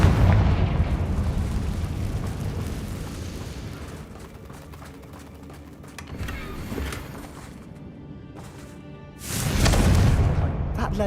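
Confringo fire spell blasts in the video game Hogwarts Legacy: a booming roar that fades, a lighter burst midway, then a second loud explosive whoosh near the end.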